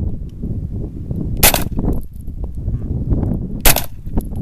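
Two loud, close gunshots from a KelTec Sub 2000 .40 pistol caliber carbine fed by a Glock magazine ring out about two seconds apart at an outdoor shooting range, with low rumbling background noise between them.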